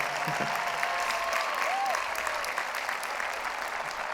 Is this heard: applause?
yes